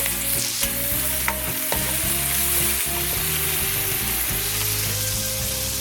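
Sliced onions, with garlic and ginger, sizzle steadily in a hot frying pan for a Filipino tuna adobong paksiw, with stirring scrapes and clacks from a utensil breaking through the constant close-up frying hiss.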